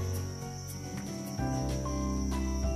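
Crickets on a cricket farm chirp steadily in dense overlapping trills, a continuous close chorus filling the clip with no voices.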